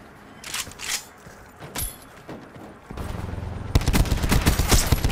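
Gunfire in a first-person shooter: a few scattered sharp shots at first, then a rapid, loud burst of continuous automatic fire close by.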